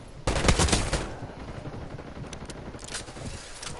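Video game gunfire opens with a loud, rapid automatic burst, then trails off into scattered quieter shots, with no talking.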